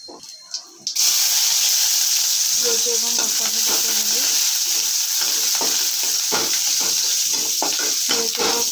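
Cumin seeds hit hot refined oil in a pan for a vegetable upma and burst into a loud, steady sizzle that continues with stirring clatter, with a brief voice before the frying begins.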